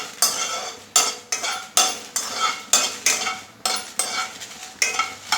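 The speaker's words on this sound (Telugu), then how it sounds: "మిరపకాయలు చిన్న మంట మీద వేయించుకోవాలి" Red chillies fry in a pan over a low flame for nalla karam chilli powder, stirred in a steady rhythm of about a dozen scraping strokes, each a short loud burst of crackle and sizzle.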